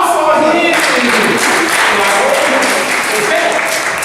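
Loud, continuous clapping from a congregation in a church, a dense wash of hands filling the space, with voices faintly audible beneath it.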